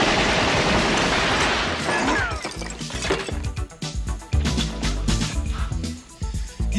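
Gunfire bursts during a police raid scene in a film, loud cracks and crashes in a dense chaotic flurry for several seconds, with brief impacts and clatter toward the end.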